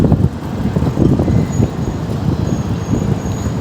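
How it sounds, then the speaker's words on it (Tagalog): Strong wind blows outdoors near a northbound rail line beside the Pasig River in Manila, a steady loud rumbling roar buffeting the microphone throughout with gusty low-end surges. "Lakas ng hangin."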